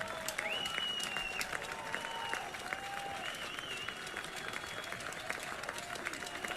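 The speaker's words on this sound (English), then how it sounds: "Crowd rising to their feet at Kimry Family Stadium" A baseball crowd at Kimry Family Stadium applauding as fans rise with two outs in the final inning, dense sustained clapping with scattered shouts and a few whistles, steady and full throughout.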